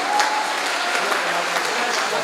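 A crowd at a kavi sammelan poetry gathering at Subharti University applauds for poet Deepak Saini, a short steady burst of clapping at even loudness with a faint tone beneath.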